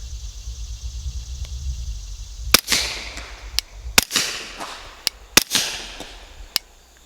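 Sharp suppressed pistol shots from a Lipseys Retro Glock P80 firing 147-grain rounds through a Hybrid 46 suppressor, about five close reports in an uneven string, each with a short ringing tail over quiet outdoor background.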